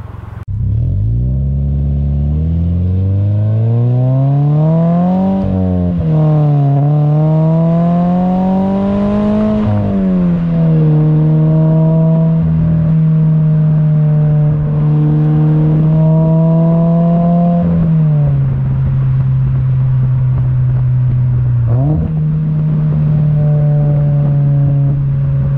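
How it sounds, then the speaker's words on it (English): A Subaru BRZ's Invidia N1 catback exhaust revs repeatedly, rising and falling in pitch, then settles into a deep, steady rumble with a few more blips; loud and close, recorded at the rear. "you can actually hear what it sounds like out by the exhaust, by the back of the car"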